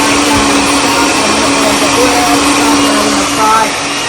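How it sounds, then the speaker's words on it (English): A countertop blender runs continuously, blending a homemade seasoning sauce: a loud, steady whirring motor drone up close that holds throughout and dips slightly near the end. "So what I'm gonna do, we're gonna blend it."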